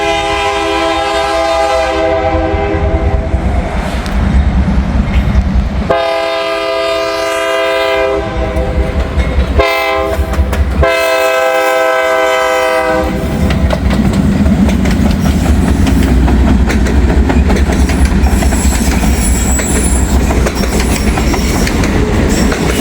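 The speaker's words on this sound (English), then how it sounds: "We have a train coming, folks." An Indiana and Ohio freight train sounds its horn in loud, sustained blasts with short breaks between them, then rumbles past close by with steady rolling wheel noise and clickety-clack.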